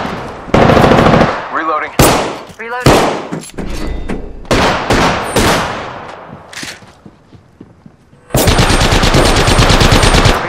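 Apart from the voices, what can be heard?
gunfire in the video game Apex Legends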